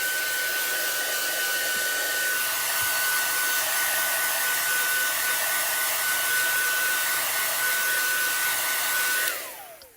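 Craft heat tool blowing steadily over a stamped paper project, a loud continuous whirring hiss with a fixed whine that runs unbroken for about nine seconds, then winds down as it switches off.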